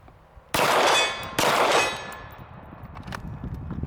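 A Canik Mete SFT handgun fires two sharp, loud shots about a second apart outdoors at a target, each with a ringing metallic clang that decays away.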